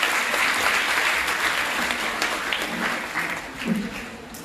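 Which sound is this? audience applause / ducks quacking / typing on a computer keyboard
audience applause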